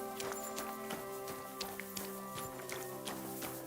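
Horse hooves clip-clop in a video game, a quick, fairly even run of hoof beats over a soft background hum with no talking.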